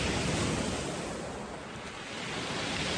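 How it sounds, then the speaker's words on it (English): Ocean surf washes and draws back over a shallow shoreline on the South Devon coast, a steady, close roar of breaking waves and backwash with wind buffeting the microphone throughout. "So I want to use the movement of that wave, or the backwash rather of the wave."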